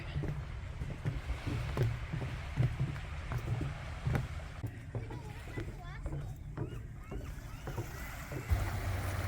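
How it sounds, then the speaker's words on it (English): Water washes and laps along a rocky shoreline in Victoria as the tide comes in, a steady nearby rush mixed with wind buffeting the microphone and faint voices in the background. "You can hear the water."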